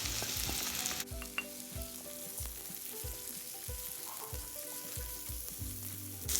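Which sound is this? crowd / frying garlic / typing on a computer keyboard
frying garlic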